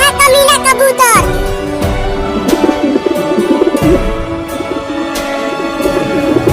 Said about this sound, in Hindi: वो रहा कमीना कबूतर।